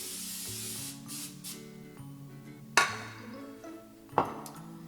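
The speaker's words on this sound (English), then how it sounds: "we're gonna just spray our pan a little bit with cooking spray to prevent it from sticking" Cooking spray hissing from a can onto a baking pan for brownies, a soft airy burst near the start, followed by light metallic clanks and two sharp knocks of the pan.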